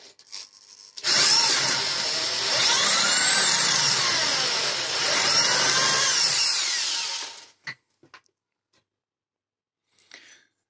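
A power drill bores through tool steel in one loud, steady, high-pitched whine of about six seconds. It cuts off abruptly and is followed by a few scattered clicks and taps.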